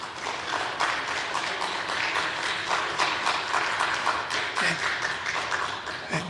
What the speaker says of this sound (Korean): 우리 선생님들 격려하는 마음으로 이쪽을 향해서 수고해 주셔서 감사합니다 하고 박수 한번 쳐주세요.